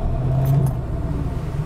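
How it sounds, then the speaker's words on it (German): A 1966 Mercedes-Benz W108 250S engine rumbles steadily at close range, with a brief jingle of keys near the start and no talking. "Also geht ein Auto an."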